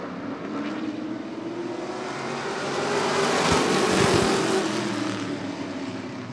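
Sportsman stock cars race in a heat at Rockford Speedway, a loud, dense roar of several engines that swells as the pack passes close by, then eases slightly as it moves on.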